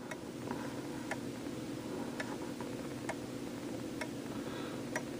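A Hermle wall clock ticks steadily but slightly unevenly, about one crisp tick per second, close up over a faint, constant background hiss.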